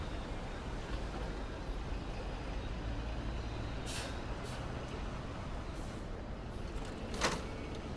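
City street traffic near City Hall in Manhattan, a steady broad rumble of engines with a couple of sharp air brake hisses from a truck or bus, plus a faint higher whine, and no talking.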